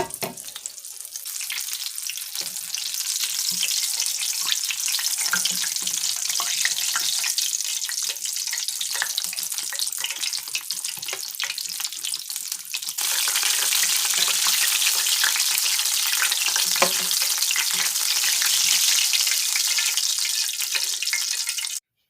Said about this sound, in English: Because I lowered the oil, it's not frying up as fast as the others did